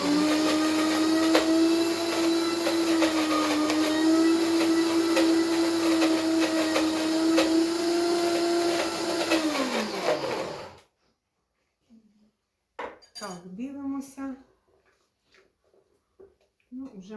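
A blender whirs a vegan mozzarella mixture, giving a loud continuous motor hum with a steady tone for about ten seconds before winding down and stopping, followed by someone speaking over near silence.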